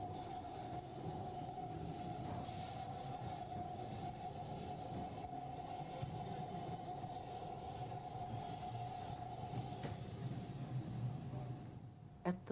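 Steam-hauled train on the Bluebell Railway rolling past with a steady rumbling roar and a sustained tonal whine, wheels clattering faintly beneath, continuous for over twelve seconds, with a faint voice.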